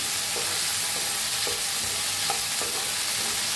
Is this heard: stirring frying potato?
yes